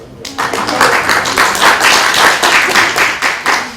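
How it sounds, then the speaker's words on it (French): A small audience applauds an award recipient during a staff training session at a university careers centre, the clapping steady and fairly close for a few seconds with a faint voice beneath it. "Donc vous pouvez applaudir."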